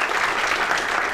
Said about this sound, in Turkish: alkışlarla sahneye davet ediyorum